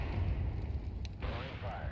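A grenade blast rumbles low and heavy in an online shooter game, a dense explosive boom sustained close up, with a brief sharper pop partway through and game noise continuing after it.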